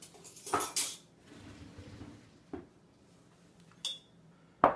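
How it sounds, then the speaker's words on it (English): A metal spoon clinks and clatters against a container while cream cheese spread ingredients are being measured, a few sharp separate knocks and scrapes in a quiet kitchen without speech. "Let me get out a spoon here so I can measure."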